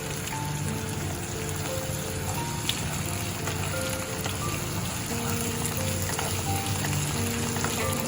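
Garlic paste and ginger paste sizzle steadily in a hot pan for a chicken jhol, a continuous close, even frying hiss with faint background hum and no talk.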